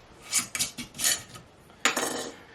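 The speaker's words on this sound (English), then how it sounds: "we're going to open up this jar that has been closed for over 2 years" Glass jar of preserved eggs, sealed for over two years, being opened: a few close clinks and scrapes of lid on glass, then a louder grating twist near the end.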